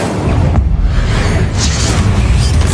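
A fiery Incendio spell blast in the Hogwarts Legacy video game, a loud booming burst with a rumbling low roar that carries on steadily to the end, with no talk over it.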